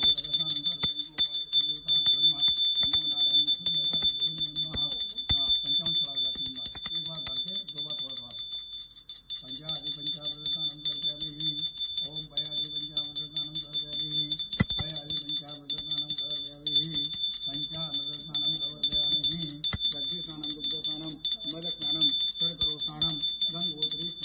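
A small bell rings continuously through a Hindu prayer ritual held at home, its bright sustained tone sitting beneath a voice chanting in steady phrases with brief pauses.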